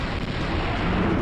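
A signal bullet fired in the Dino Crisis video game, a dense, sustained roar of blast and gunfire noise that fills the whole short moment loudly and without a break, with no voices.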